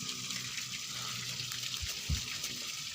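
Water gushes from a two-inch pipe fed by a one-horsepower solar-powered pump drawing from a 29-metre borehole, a steady close rushing flow with faint splashes and a couple of low thumps.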